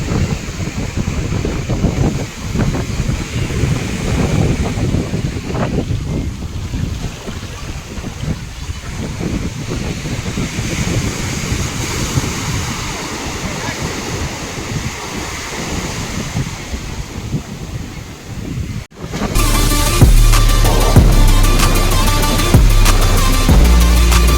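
Waves breaking on a Mumbai beach, a steady wash of surf blended with wind noise buffeting the microphone, continuing for about nineteen seconds before an abrupt switch to a different, louder sound.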